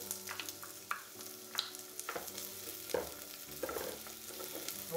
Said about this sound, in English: And I'm now going to add my onions.